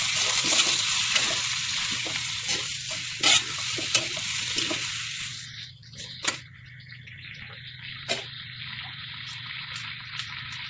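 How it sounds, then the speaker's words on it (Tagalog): Boiled native chicken being stirred and sautéed in a hot pan for Ilonggo-style tinola, with steady sizzling and frying noise and repeated scraping stir strokes that fade partway through, no talking. "Kaya gisahin na lang natin."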